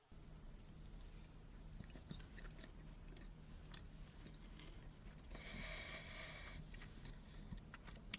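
Close chewing and biting of a KFC butter biscuit with a sugary topping, soft wet mouth sounds over a steady low hum, with a louder crunchy stretch near the end.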